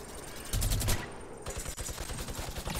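Gunfire in Fortnite, a loud burst of rapid shots near the half-second mark followed by a steady run of quick, evenly spaced shots through the rest, with no talking.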